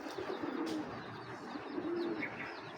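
Racer pigeons coo in soft, repeated low phrases under a fairly noisy background, the throaty notes coming in short bursts.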